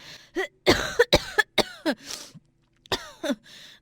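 A person with a cold and high fever coughs repeatedly in a rough, hacking fit, several sharp coughs with brief pauses and some throat clearing.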